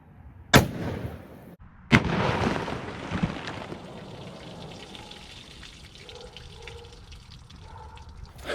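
Two sharp rifle shots from a .45-70 or .375 H&H Magnum fired into a row of water jugs, the first loud crack followed about a second later by a second report, then splashing and dripping water trailing off.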